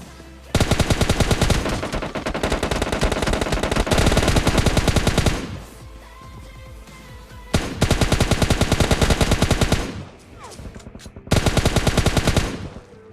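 Rapid automatic fire from an M4 rifle in the PUBG Mobile video game comes in long loud bursts, broken by short pauses and scattered single shots, close and dense.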